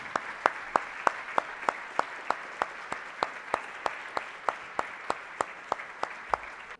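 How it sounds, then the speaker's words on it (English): Steady, evenly paced clapping rings out against a soft wash of audience applause for panelists at a forum, moderately distant and fairly quiet. "if everyone could please, again, give a round of applause to Verna, Saul, and Yvette."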